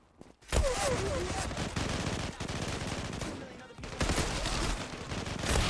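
Rapid bursts of gunfire from a weapon in the shooter game Zula, starting after a brief quiet moment and continuing loud and dense, with a short pause near the end before firing resumes.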